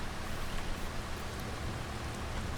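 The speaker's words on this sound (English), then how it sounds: "Yep, so the rain is not great." Rain falling in the farming video game Farming Simulator 25, a steady, dense hiss of drops filling the whole stretch at even volume, alone without talk.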